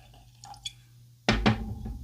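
Johnnie Walker Black Label blended Scotch whisky is poured from a square bottle with a tin cap. A few faint clicks come first, then a sudden louder burst of liquid splashing into a glass, close by.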